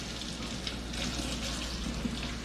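Water runs from a kitchen tap as a knife is rinsed, a steady, close hiss of flowing water with a slight splashing texture and no pauses.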